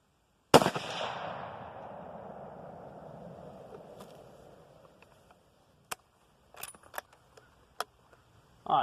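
A single .30-06 rifle shot with a 150 grain bullet cracks out loud and close, its long echo rolling and fading over several seconds, followed by a few sharp clicks and clatters of handling.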